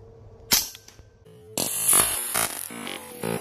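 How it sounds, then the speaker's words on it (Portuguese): A Hatsan Blitz PCP air rifle fires at a soda can, giving a sharp crack with a metallic hit. A second burst of cracks follows, loud and close, in quick succession. "A batida latinha com o tiro."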